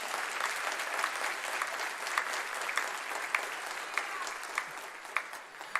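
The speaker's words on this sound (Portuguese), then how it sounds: "aplauda o nome de Jesus." A church congregation applauding for the name of Jesus, a steady sustained wash of many hands clapping at moderate loudness with scattered sharper claps standing out, no talk over it.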